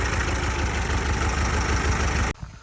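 A small LuAZ car engine idles with a steady, rough low rumble close by, then cuts off abruptly near the end.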